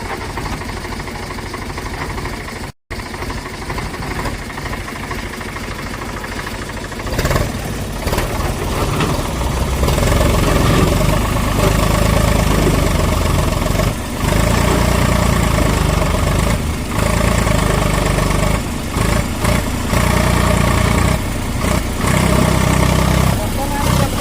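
A tractor engine idles, a steady mechanical drone that grows louder and fuller partway through and holds there, with people talking over it.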